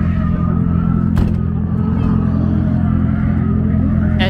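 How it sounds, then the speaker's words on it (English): A car drifting at a track day roars loudly and continuously, its engine rumbling and revving steadily, with a brief sharp burst of noise partway through. "First time drifting."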